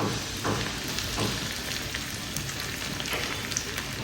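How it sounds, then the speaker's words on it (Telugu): Garlic with cumin and mustard seeds frying in hot oil makes a dense, continuous crackling sizzle with small popping bursts, close and fairly loud, with no talk. "ఎల్లుల్లిపాయలు గోల్డెన్ బ్రౌన్ కలర్లో ఫ్రై అవ్వాలి"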